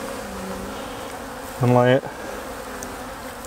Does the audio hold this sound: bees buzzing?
yes